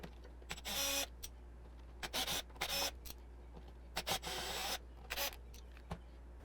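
Repeated bursts of whirring from a driver backing screws out of a Logitech G29 steering wheel hub, several short runs of a few seconds each with pauses between, close and fairly quiet with no talk.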